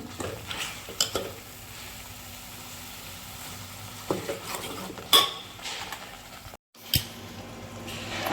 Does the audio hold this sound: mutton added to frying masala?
yes